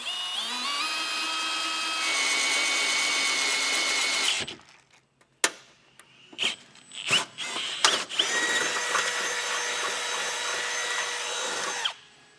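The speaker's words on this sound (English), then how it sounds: "I'm just going to use the large drill bit to start. This is pretty thin aluminum" An electric drill with a large bit whines steadily through thin aluminum bracket, pauses with a few clicks and clunks, then spins up again for a long continuous run before stopping.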